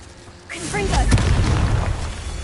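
Confringo explosive spell cast in Hogwarts Legacy, a fantasy video game, giving a sudden loud boom with a rumbling burst that lingers for about two seconds, mixed with game effects.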